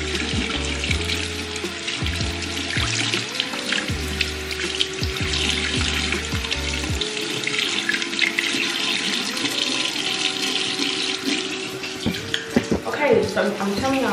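Tap water running steadily into a sink while someone washes off their face, a continuous close splashing hiss throughout with light handling noises.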